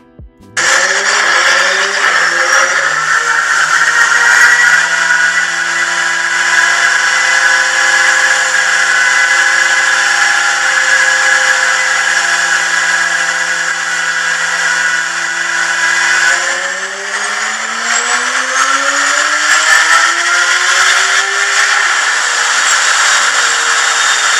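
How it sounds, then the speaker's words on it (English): A high-revving Porsche race car engine on a dyno holds a loud, steady scream for a long stretch, with the pitch climbing toward the end. "just listen to this one on the dyno. It sounds like a Harrier jet is landing"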